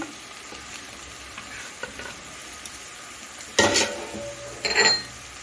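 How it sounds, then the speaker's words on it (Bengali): Ground spices (cumin, coriander, turmeric, Kashmiri chilli) frying with onion, ginger and garlic in a pan, a steady soft sizzle with two louder bursts of scraping stirring near the end, no voices. "কষিয়ে নিচ্ছি পেঁয়াজের সঙ্গে।"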